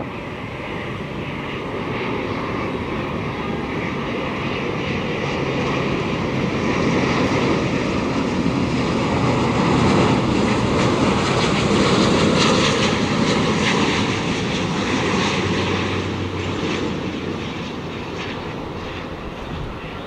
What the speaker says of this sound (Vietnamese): Còn đây là Airbus A350-900 của Singapore. Chiếc máy bay đang bước vào hạ cánh đường băng 25 phải.